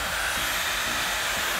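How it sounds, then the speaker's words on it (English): A household vacuum cleaner running indoors, a loud, steady whooshing hiss with no pauses and no talk over it. "let's turn the vacuum on"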